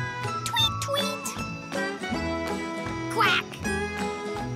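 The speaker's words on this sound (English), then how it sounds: "Quack!" Cartoon-style duck quacks ring out over bright, busy children's music from an animated read-aloud storybook, the quacking loud and up front in a short burst.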